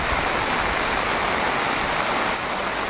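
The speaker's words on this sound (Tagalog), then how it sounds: "Walang tigil ang ulan guys." Steady heavy rain pours down in Benguet under a red alert, a dense, unbroken roar of water that stays loud and even for the whole stretch, with no voices.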